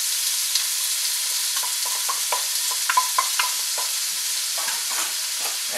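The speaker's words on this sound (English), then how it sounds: "And now we're going to add in our onions." Chopped onions hit melted butter in a pan alongside wild turkey for a pot pie, giving a steady close sizzle with scattered scraping stirs of a utensil; no voices.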